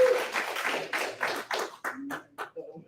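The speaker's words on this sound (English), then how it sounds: "Everybody get a hand clap." A seminar audience claps hands in a short burst that thins into a few scattered, separate claps as it dies away.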